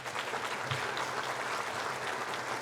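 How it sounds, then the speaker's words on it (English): Audience applause at an outstanding alumni awards ceremony, a steady, moderately distant wash of many hands clapping that holds evenly throughout with no voices on top. "How about a round of applause for Rebecca?"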